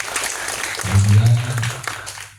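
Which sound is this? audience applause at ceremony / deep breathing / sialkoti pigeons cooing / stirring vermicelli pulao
audience applause at ceremony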